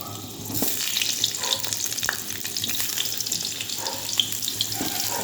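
Potatoes frying in oil in a home kitchen, a continuous bright sizzle that holds steady throughout, with faint stirring and clinks under it and no talk.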